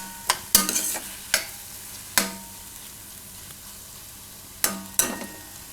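A spoon scrapes and knocks through broccoli and cashew curry cooking in a pan on low-to-medium heat, giving sharp, irregular clatters over a faint, steady simmer.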